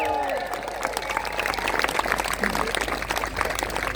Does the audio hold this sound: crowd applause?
yes